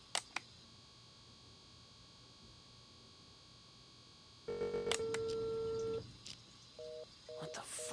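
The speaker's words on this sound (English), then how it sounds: "we'll go over here in this cubicle and see who this guy is on the phone to." Telephone dialing in the stealth game Unheard, a run of short tonal beeps with a sustained dial tone partway through, fairly clear over a faint background hum, no talk.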